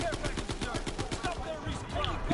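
Gunfire rattles through a Call of Duty WWII match, a rapid automatic burst of shots followed by scattered single reports, moderately loud under continuous game noise.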